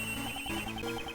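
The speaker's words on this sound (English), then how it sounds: "That sound is a cell phone." A cell phone rings in the video game Ace Attorney Investigations 2, giving a short, steady electronic ringtone with a continuous tonal pattern. No voices are heard over it.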